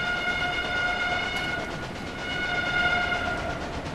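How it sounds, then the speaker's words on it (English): A train whistle in the Railway Empire game sounds a sustained, harmonically rich chord, loud and steady over a rolling rumble of rail noise, holding for several seconds with slight swells. "I do love the fact that you can control the whistles of the train you're watching."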